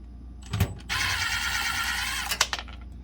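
An 8mm power driver whirs steadily for about one and a half seconds while backing screws out of the rear panel of a refrigerator, framed by short clicks and knocks before and after, with no talk.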